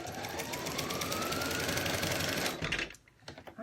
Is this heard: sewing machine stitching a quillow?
yes